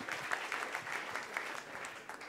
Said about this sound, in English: Yes, now you applaud.